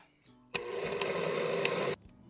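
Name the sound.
blender grinding melon and pineapple with water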